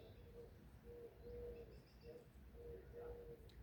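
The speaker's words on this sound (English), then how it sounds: "Beautiful little ring-necked doves." Ring-necked doves coo in a soft repeated series of low, hollow notes, fairly faint over steady outdoor background noise.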